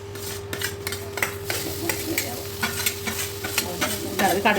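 Onions fry with a loud, continuous sizzle as a spoon stirs them, scraping the pan in regular strokes up close.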